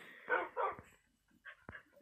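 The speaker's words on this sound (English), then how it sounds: "This dog doesn't have a name" Minecraft dog with a pink collar giving a few soft game barks and whimpers, short and quiet with brief pauses between them.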